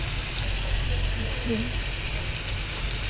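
Chhachi shak greens fry in hot oil with garlic and onion, giving a dense, even sizzle close by. A few faint tonal blips sit under the frying, and no one speaks.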